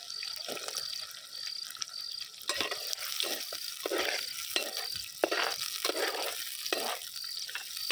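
Onion and garlic sautéed in a pan, a steady close sizzle of frying broken by repeated scraping stirs, continuous and fairly loud throughout with no voices.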